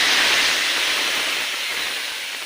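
Oil poured into a hot pan, a steady bright sizzling hiss that slowly fades, close and alone with no voices.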